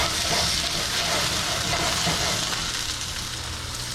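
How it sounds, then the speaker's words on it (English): A batch of potatoes fries in hot oil for vegan tostadas, a dense, steady sizzle and crackle heard up close without any voices. "Just gonna go straight into the hot oil."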